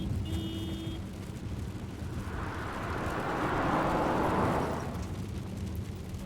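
A vehicle passes by in a sound-effect demo, a low rumble swelling to a loud wide rush around the middle and then fading away, with a short faint tone near the start.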